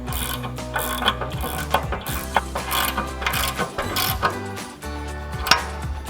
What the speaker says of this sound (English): 16mm ratcheting wrench on the bolt side and a 17mm ratcheting wrench on the nut side and tighten these down.